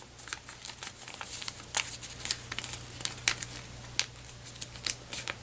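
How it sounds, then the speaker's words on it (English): Paper being folded back along an existing crease for a kusudama flower: soft, close crinkles and light papery crackles in irregular bursts over a quiet background hum, with no talking. "Just fold it back over, close it up."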